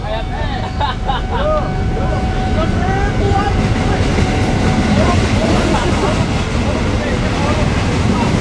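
Loud, continuous rumble of a train rolling past close by a trackside food stall, with metallic squeals and a steady roar throughout.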